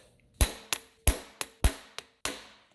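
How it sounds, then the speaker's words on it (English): A rapid series of sharp, hammering impact bursts from an impact driver removing a bolt on a Subaru EJ boxer engine, about seven hard rattling hits with short gaps, close and loud with no talking. "Now I will demonstrate for you the wonderfulness of an impact driver."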